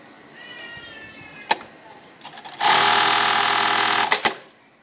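A Siruba PK533 industrial sewing machine runs loud and close in one steady mechanical burst of over a second. Before it come a faint cat meow, a few clicks and low murmuring.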